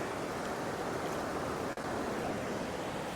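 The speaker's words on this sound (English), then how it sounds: "Just casting out into them white waves because it's coming into a gully." Sea waves break and wash onto a sandy beach at Upgang during a fishing match, a continuous loud surf roar with wind, steady throughout with no speech.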